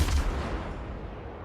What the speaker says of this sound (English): And there's a salvo at me.